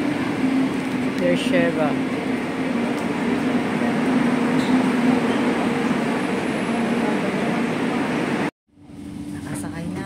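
Rumbling interior of a moving train in Israel with a steady low hum and rattling, a brief announcement voice heard, then a short dropout before the noise resumes.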